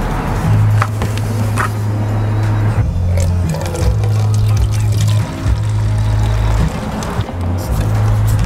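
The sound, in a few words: bottled water poured into concentrated car soap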